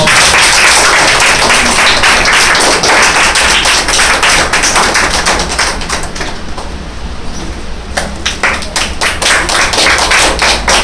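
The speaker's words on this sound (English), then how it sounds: "give a big round of applause" Dense, sustained applause from an audience at a monthly rewards and recognition ceremony honoring a guest, loud and steady for the whole stretch, dipping slightly midway before swelling again.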